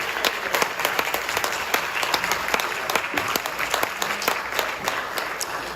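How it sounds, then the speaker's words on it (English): An audience applauds congressional forum candidates with dense, continuous clapping that holds steady and loud throughout, a room full of hands close by with no speech over it. "Let's give them all a round of applause for attending this evening."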